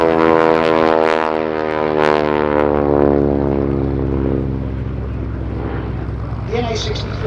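A vintage North American NA-64 single-engine propeller trainer with fixed undercarriage flies past at an airshow. Its loud, droning engine note slowly falls in pitch as it passes and continues under a commentator's voice.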